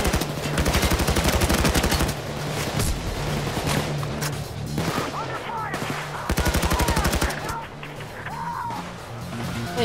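Loud, rapid automatic gunfire from the heist shooter Payday 2, firing in sustained bursts with brief pauses across the whole stretch, while voices call out over it.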